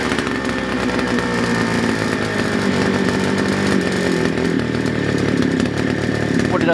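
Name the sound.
2-stroke strimmer engine starting and running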